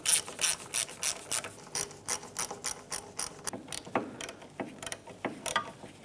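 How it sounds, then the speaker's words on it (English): Rapid ratchet clicks sound close and distinct as 17mm bolts are snugged down on the rear wheel hub of a 2007-2013 Mitsubishi Outlander, coming in quick repeated bursts with short pauses and no voices. "these are 17mm bolts. We'll go ahead and tighten these down snug"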